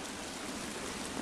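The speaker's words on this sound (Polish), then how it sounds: "ten wodospad trochę." A waterfall in the survival game The Forest gives a steady, soft rushing wash of water, continuous and fairly distant, with no other sounds over it.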